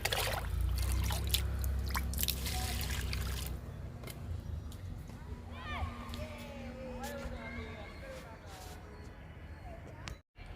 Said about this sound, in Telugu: ఇంకా మిగతా మొక్కలకి లిక్విడ్ ఇద్దాము.